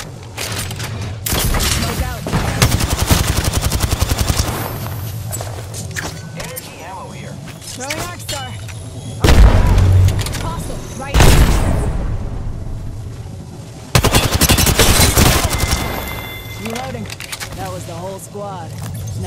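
Apex Legends weapon fire comes in several loud automatic bursts separated by quieter stretches, with in-game character voice lines and chatter in between.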